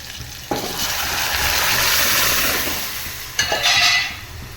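Onion and spinach sauté in a hot pan, a loud steady sizzle with bursts of stirring that flare up twice, heard alone without talk.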